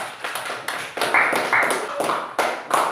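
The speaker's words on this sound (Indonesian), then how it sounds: "Berikan tepuk tangan dulu untuk kelompok 4." A few people clapping in short bursts, close and uneven, with a brief tone and some voices mixed in.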